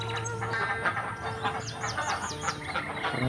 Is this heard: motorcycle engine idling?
no